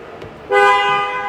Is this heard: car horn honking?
yes